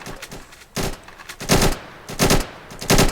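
Bursts of automatic gunfire from soldiers in a Roblox game, sharp loud volleys repeating in clusters about every half second to second, with no talk.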